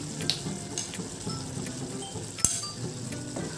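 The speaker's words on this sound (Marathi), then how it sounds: "पुन्हा एकदा आपण हे सर्व परतून घेणार आहोत" Turmeric, coriander-cumin powder, red chilli powder and salt sautéing in a pan, a soft continuous sizzle with scattered metallic clinks and taps of a spoon against the pan, one sharper knock midway.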